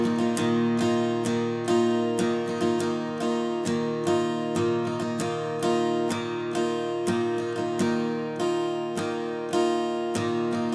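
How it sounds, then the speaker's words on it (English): Acoustic guitar strumming a simple, steady pattern of even down and up strokes, ringing chords close and clear with no voice over them. "I'm going to show you a more simple strum pattern"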